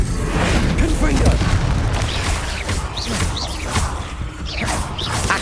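The Confringo blasting spell in the video game Hogwarts Legacy: loud booming explosions and whooshes follow one another amid combat noise, while a player shouts over the action.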